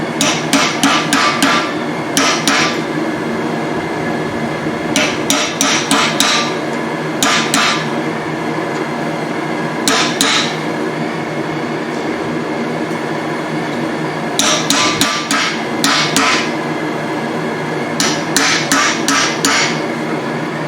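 A blacksmith strikes forging tongs held in a vise, loud close hammer blows in quick clusters of several ringing hits separated by short pauses, over a steady background hum.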